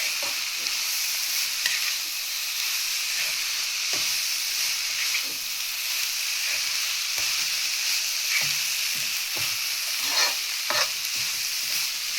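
Soaked flattened rice (avalakki) is stirred with vegetables in a hot pan, giving a steady low sizzle broken by scraping and tapping from the spatula at irregular intervals, with no talk.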